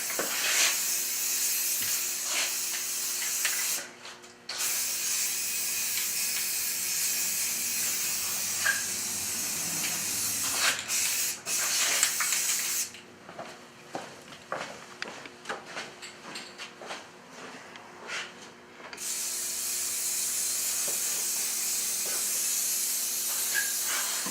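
Steady hissing bursts of spray paint from an aerosol can coating a snow base model on a work table, continuous with brief pauses and short breaks, close and moderately loud, no talking.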